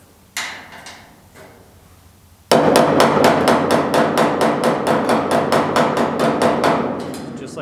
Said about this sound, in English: Just like doing hammer dolly off.